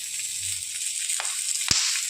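Cooking oil sizzling on a hot griddle where chillies are being roasted, a loud continuous hiss with a couple of brief sharper pops near the end.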